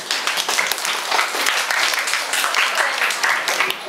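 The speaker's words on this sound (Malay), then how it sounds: "kita juga memberi tepukan kepada kumpulan ketiga" Year 5 pupils in a Malay-language classroom clap for a group of classmates, a dense, continuous patter of many small hands lasting throughout, close and fairly loud.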